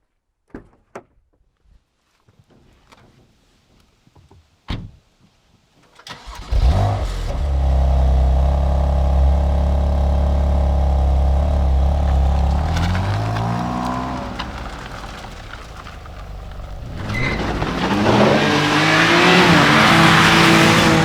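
A 2020 BMW M2 CS opens with scattered door clunks and the thumps of people climbing in, then the engine fires up into a loud, steady idle, settles, and rises into a hard rev near the end.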